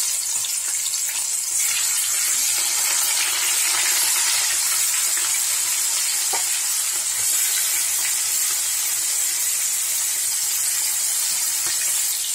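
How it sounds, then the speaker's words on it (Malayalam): Chicken pieces frying in hot oil with curry leaves nearby, giving a steady, bright sizzling hiss close up that holds evenly throughout, with faint crackles and no talk. "നമ്മൾ ചൂടായ എണ്ണയിലേക്ക് നമുക്ക് ഓരോ പീസായിട്ട് ചിക്കൻ ഇട്ട് കൊടുക്കാം"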